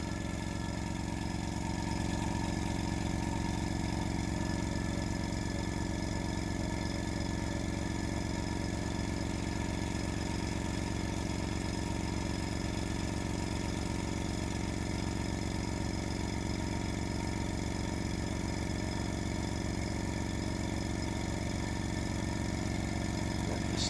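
A cheap $75 air compressor runs continuously while building tank pressure. Its steady, unbroken mechanical drone and hum hold at constant level throughout, with no speech.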